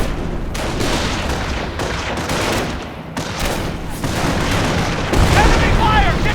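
Rapid bursts of rifle and machine-gun fire crackle through a World War II battle in Company of Heroes, dense and continuous with booming impacts, while soldiers shout over the fighting.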